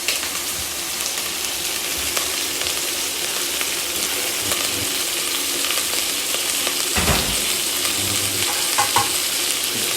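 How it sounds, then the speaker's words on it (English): Onion and other vegetables roasting in a hot pan for Spanish-style ox cheeks, a steady close sizzle with occasional scrapes of stirring and no voices. "all we're going to do now is we're just going to roast all that off as well and get some colour on that"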